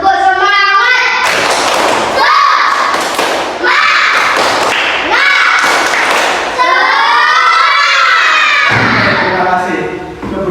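A school class does a rhythmic spirit clap, tepuk semangat, led by a student. Loud bursts of group clapping alternate with chanted voices in a patterned call-and-clap rhythm, close and energetic.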